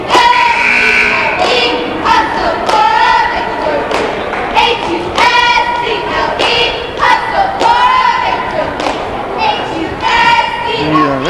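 Cheerleaders from Northeastern perform a loud, rhythmic cheer at a 1999 junior varsity boys' game in a gym, with chanted shouts punctuated by stomps and claps and the crowd audible around them.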